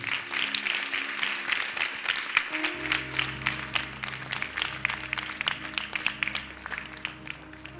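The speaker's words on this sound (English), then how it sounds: "Clap your hands." A church congregation at a worship service claps along, with rapid, rhythmic hand claps over sustained organ or keyboard chords that enter partway through, fairly close and lively.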